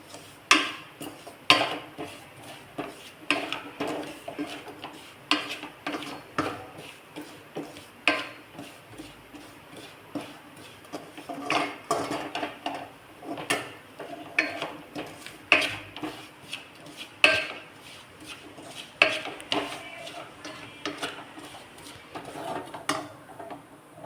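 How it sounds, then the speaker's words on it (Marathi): Semolina roasts in a pan over a low flame and is stirred, giving soft, irregular clicks and scrapes of a spoon against the pan, quiet and close with a faint background hum. "गॅसची फ्लेम कमी करून आपण हा रवा छान परतून घेणार आहोत।"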